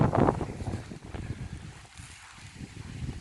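Gusty wind buffets the microphone with a low rumbling roar. It is strongest at the start, then eases into a softer, steady blow.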